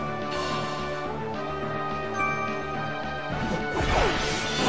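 A battle hit and knockout effect in Pokémon Battle Revolution, with a crunchy crashing smash rising late over steady tonal game music, loud and close, no talking.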